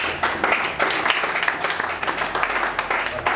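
A church congregation applauds steadily during a service, many hands clapping together in a dense, continuous patter throughout.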